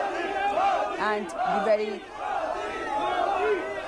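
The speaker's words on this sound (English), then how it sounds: "here we have the crowd there going berserk. Chants of Modi, Modi there." A large crowd cheers and chants Modi's name in rhythmic repeated bursts as the Indian Prime Minister and Australian PM Malcolm Turnbull ride the Delhi Metro, loud and close, with a voice briefly speaking over it.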